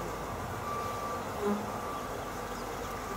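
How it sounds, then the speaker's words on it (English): Honeybees hum in a steady, close, continuous drone during the first inspection of a new hive, with no talk over it. "The bees are starting to line up on the tops of the frames,"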